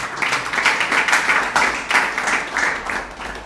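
An audience applauding together, a steady wash of many hands clapping in rhythmic surges, fairly loud and close, with no voices over it.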